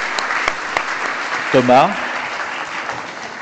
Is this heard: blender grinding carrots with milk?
no